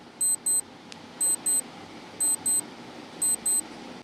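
A quiz countdown timer gives paired electronic beeps, four evenly spaced double beeps about a second apart, crisp and close over a faint steady background hiss.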